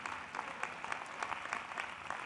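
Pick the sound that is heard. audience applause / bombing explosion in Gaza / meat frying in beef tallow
audience applause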